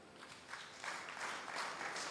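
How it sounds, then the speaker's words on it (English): Wedding guests clapping for the helpers at a reception, a soft, distant round of applause that builds slightly and holds steady. "so round of applause for you guys."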